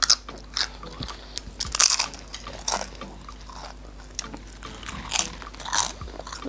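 Loaded cheesy nachos, part soggy and part crispy, bitten and chewed up close, with a run of sharp crunches and wet chewing in an uneven rhythm, no talking over it.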